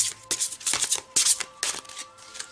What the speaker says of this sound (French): Je vais couper et prendre la carte du haut.